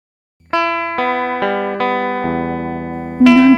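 Homemade giant-spoon guitar played back from a recording: a series of plucked string notes with bright harmonics and long sustain, each attack ringing into the next, ending on a louder strummed chord with a wobbling, effect-laden tone.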